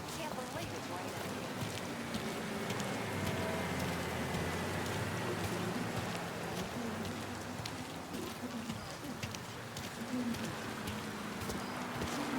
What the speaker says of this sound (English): Can't believe it's raining.